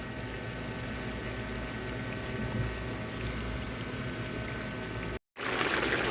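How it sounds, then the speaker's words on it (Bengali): Water pours steadily into a cooking pot of potato and eggplant for a dried fish curry, a constant rushing stream, then cuts off briefly before resuming loudly. "আলু বেগুনটা সিদ্ধ হওয়ার মতো পানি দিয়ে দেবে"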